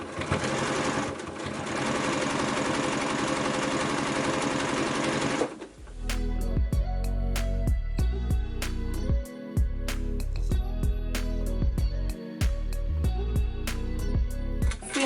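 A sewing machine runs steadily, stitching fabric triangles for a wonky quilt block, with a short lull midway before the close, even motor hum resumes and continues to the end.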